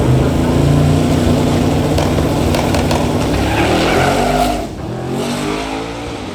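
A drag racing car makes a pass with tire spin, a loud sustained engine roar close by that holds steady and then drops off near the end, with no voices.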